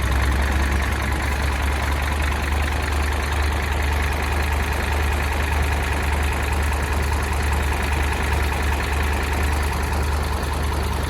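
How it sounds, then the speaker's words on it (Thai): A Toyota Hilux Revo cab pickup engine idles steadily nearby, a continuous low rumble with a faint ticking texture and no other sounds. "เสียงเครื่องยนต์นะคะนี่คือคือสตาร์ทแล้วนะคะ"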